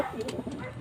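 Pigeons coo softly and repeatedly inside their loft in Gapan, Nueva Ecija. The murmuring calls are close and overlap in a low, continuous flutter.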